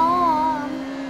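A car engine in the Need for Speed Rivals video game revs and accelerates during a police street-race pursuit. It is a steady, loud droning whine whose pitch wavers slightly, easing a little toward the end.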